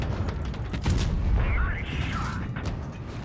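An IS-4 tank cannon firing shells in World of Tanks Blitz, with a heavy boom and mechanical clatter near the middle amid ongoing battle noise and talk.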